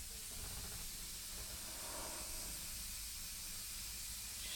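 Steady, continuous hiss of spray from a compressor-driven sprayer used on scratch board art, unbroken and fairly faint for the whole clip.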